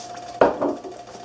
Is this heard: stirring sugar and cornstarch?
yes